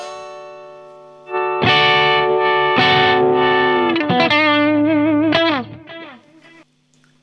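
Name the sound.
Squier Telecaster electric guitar tone knob wah effect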